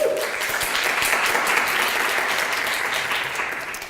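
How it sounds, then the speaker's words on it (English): Audience applause for an event organizer at a business talk, a steady wash of many hands clapping at moderate distance, even and sustained before tapering slightly at the end. "How about a round of applause for Jeff?"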